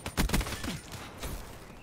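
Gunfire in Call of Duty Black Ops 3 multiplayer on PS4, a quick burst of loud, close shots at the start followed by more scattered firing that fades.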